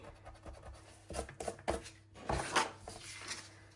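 Rapid scratchy rubbing of an eraser on paper while making a card, in short bursts, close up and moderately loud over a low hum.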